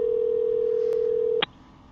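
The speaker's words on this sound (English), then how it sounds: "I hear a dial tone. We got a phone going out." A steady telephone dial tone from an outgoing call holds clear and unbroken for nearly one and a half seconds, then cuts off abruptly with a short click, leaving quiet line noise.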